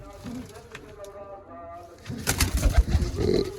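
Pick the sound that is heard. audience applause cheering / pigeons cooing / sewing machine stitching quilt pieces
pigeons cooing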